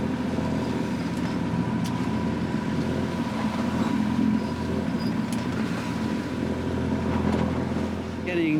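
A sailboat's engine drones steadily at low pitch, a continuous mechanical hum with faint water and wind noise over it.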